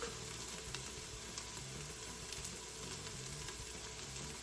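Crushed red pepper being stirred into onions frying in a pan for a pumpkin pasta, giving a constant close sizzle with faint scraping of the spoon and no talking.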